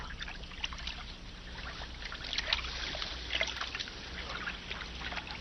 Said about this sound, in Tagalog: may dumarating na steamship.